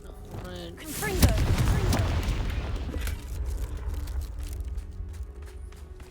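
A Confringo blasting spell explosion in Hogwarts Legacy, one loud booming burst with a crackling tail that fades over several seconds, preceded by a brief voice.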